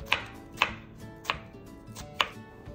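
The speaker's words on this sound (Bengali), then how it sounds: "এরপরে আমি এগুলোকে এরকম একসাথে করে পাতলা পাতলা সরু সরু করে কাটবো করে।" A knife cuts a cucumber into thin strips on a board, five crisp separate chops spaced about half a second apart, close up with no talking.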